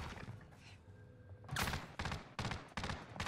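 Gunfire in Call of Duty Warzone, starting with faint scattered shots and then a burst of loud, rapid automatic fire in several close bursts, with no talk over it.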